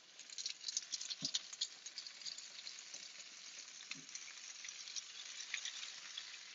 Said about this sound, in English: turn the pan to medium low and add 1 tablespoon of butter per person and stir